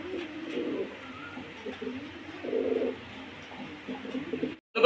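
Fancy pigeons cooing in a loft, with repeated low, soft coos in bursts against a steady background, fairly close and without talk.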